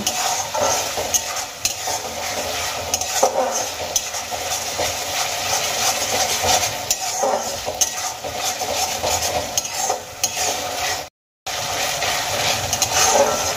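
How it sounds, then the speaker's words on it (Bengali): Onion paste frying in oil for an egg masala curry, a dense, steady sizzle with stirring scrapes running throughout, close and fairly loud, briefly cutting out near the end. "পেঁয়াজের পেস্ট আমি খুব ভালো করে তেলের সঙ্গে মিশিয়ে নিয়েছি। এবার আমি 2 থেকে 3 মিনিট পেঁয়াজগুলোকে ভেজে নেব।"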